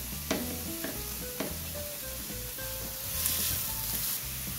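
Bell peppers, red and yellow, with mushrooms stir-fried in a pan, a steady soft sizzle broken by a few sharp clicks and scrapes of a utensil against the pan, with no voices.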